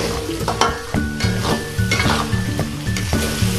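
Bean sprouts sizzle in a hot pan while a utensil stirs and scrapes them with regular rhythmic clanks against the metal.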